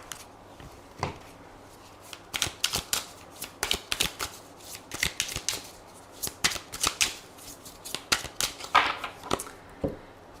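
Tarot cards are shuffled close up in a quiet room, a sequence of sharp riffling snaps and flutters in uneven bursts with short pauses between them.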